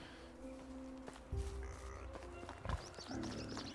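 Horse foals in the medieval farming game Medieval Dynasty, giving soft hoof clops and low animal shuffles amid farmyard ambience, with a couple of louder thuds, steady and fairly near.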